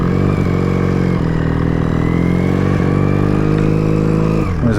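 A Honda Superdream motorcycle engine idles loudly and steadily close by, with a brief clunk and a slight change in tone as a gear is selected before the bike moves off.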